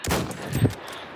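Gunfire in Battlefield 1 with the In the Name of the Tsar expansion: a couple of close, loud shots early, then a heavier blast near the middle, fading into a quieter tail of rumble.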